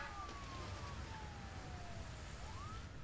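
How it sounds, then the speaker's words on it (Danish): A fire truck siren in the city-building game SimCity, sweeping in a thin, steady wail over a constant low rumble of game background noise. It holds for about three seconds, with no talking. "Så rykker brandbilen ud."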